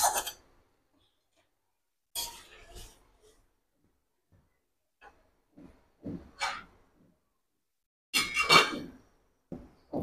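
A few separate clinks and light metallic knocks of a pot lid being handled over a simmering fish curry of pangas fish and taro, set apart by quiet stretches, with faint household noise between them.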